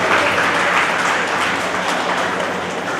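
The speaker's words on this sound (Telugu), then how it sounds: "ఒకసారి చప్పట్లు కొట్టాలి మీరందరూ కూడా." A room full of people clapping at an International Women's Day celebration, dense, even applause held steady and fairly loud from start to finish.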